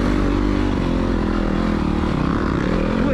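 A dirt motorcycle on a singletrack trail at Reading Outdoors, its engine droning loud and close with the throttle rising and falling in a continuous rumbling roar.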